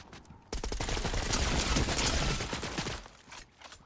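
Sustained burst of video-game gunfire in Fortnite Chapter 5, dense rapid shots lasting about two and a half seconds before tapering into scattered quieter shots.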